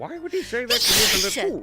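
A loud, breathy sneeze bursts out in the middle of dialogue from the Apollo Justice game, with talking before and just after it.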